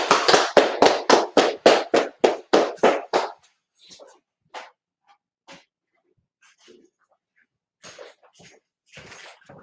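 A quick burst of about a dozen loud, evenly spaced claps, then scattered faint taps and shuffling noises trailing off.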